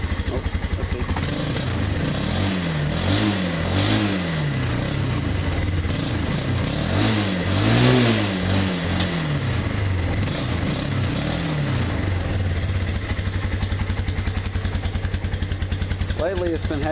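A 2001 Bear Tracker ATV engine idling after a cold start, with a fuel-starving problem when cold, gives a steady near putter with several rising and falling rev swells, while voices talk over it.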